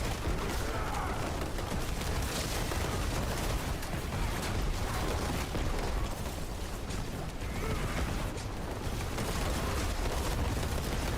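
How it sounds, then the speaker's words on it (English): A dense, unbroken roar of explosions fills a combat area in the video game Diablo 4, loud and steady throughout with no clear pauses. "there's explosions all throughout this area."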